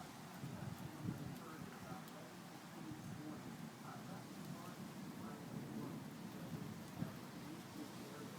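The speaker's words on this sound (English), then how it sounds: "It's raining so hard." Heavy rain pours steadily during a thunderstorm with tornado sirens, a dense even hiss with a faint distant rumble underneath and one sharp crack near the end.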